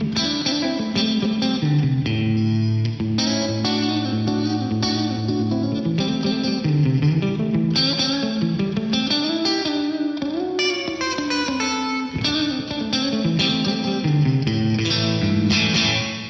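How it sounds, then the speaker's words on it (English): A Digitech Studio Quad v2 rack effects unit on a concert hall reverb preset, with a little over two seconds of decay and the level raised, washes a continuous instrumental passage in a loud, lush, lingering tail. "I've got this one set up at the moment as a concert hall with 2 and a bit seconds of decay and the level turned up."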